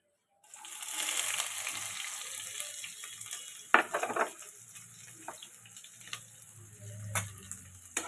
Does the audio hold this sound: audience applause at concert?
no